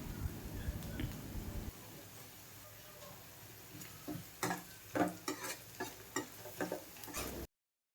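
Onions frying in a pan as salt and turmeric are stirred in for flattened-rice upma, a steady sizzle giving way to close, irregular scraping and clinking strokes of the stirring spoon, with no talk.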